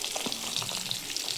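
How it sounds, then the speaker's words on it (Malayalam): Chopped red spinach hits hot oil in a pan for a thoran and sizzles in a loud, steady frying hiss, with faint stirring crackles close by. "ഇനി ചീര അരിഞ്ഞു വെച്ച ചീര ഇട്ട് കൊടുക്കുവാണ്"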